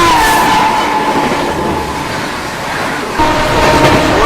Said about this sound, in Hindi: किसी स्पेशल ट्रेन को भी जस्ट हम लोगों ने ओवरटेक किया